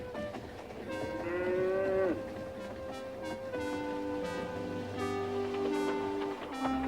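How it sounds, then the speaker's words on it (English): A cartoon cow in a Thomas & Friends scene gives a long, loud moo near the start, set over background music with bright tonal lines and soft rustling throughout. "Moo, said the cow."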